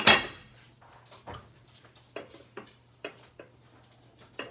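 Sweet bread in a loaf pan goes into a home oven: one sharp metallic clank up front, then a series of faint light knocks and clinks from the pan and rack, with a low hum beneath.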